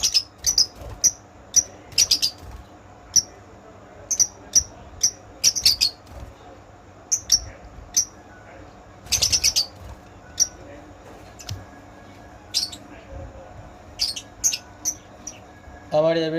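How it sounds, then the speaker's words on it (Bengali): Pet lovebirds, opaline birds kept at home, give sharp high chirps in quick bursts, scattered irregularly over a quiet room background. "এখানে অনেক প্রজাতির লাভ বার্ডস আছে"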